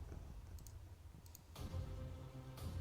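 Computer keyboard typing during a VR game stream, quiet scattered key clicks at first, then a denser burst of faint clicking over a steady low background hum.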